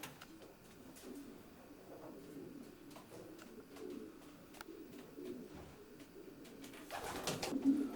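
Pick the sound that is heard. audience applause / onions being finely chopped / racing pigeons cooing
racing pigeons cooing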